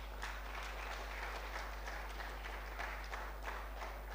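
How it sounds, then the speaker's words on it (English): An audience at an alumni homecoming seminar claps to welcome a speaker, scattered but continuous hand claps at a modest distance over a steady low electrical hum. "with a hand of applause, let's welcome Dr. Enim Mensah"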